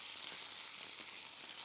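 Mint leaves, mustard seeds, vadagam and dried red chillies crackle in hot oil, tempering for mint sambar, in a steady close sizzle with faint bright spits and no talk.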